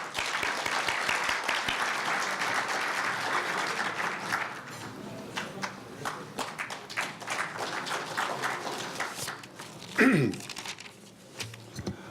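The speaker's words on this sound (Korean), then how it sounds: "큰 박수를 맞아주시기 바랍니다." Audience applause at a Korean university newspaper's 70th anniversary ceremony welcoming the alumni association president: steady dense clapping for several seconds that fades into sparser claps, with a brief handling thump near the end.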